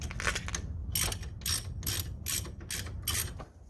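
A ratchet tightens the brake caliper bolts on a Polaris RZR side-by-side during wheel bearing service, giving bursts of rapid clicking in a steady back-and-forth rhythm, close and clear with no voices.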